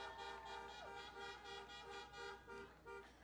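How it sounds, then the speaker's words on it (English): Car horns honk at an outdoor presidential campaign rally in Miami, Florida, sounding faint and distant as a steady series of repeated toots over crowd murmur. "You got that horn honking good."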